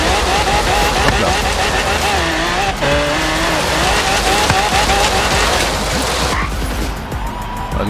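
A car in the video game Forza Horizon drives hard, its loud engine roaring continuously with pitch rising and dropping through gear changes, and tire noise mixed in.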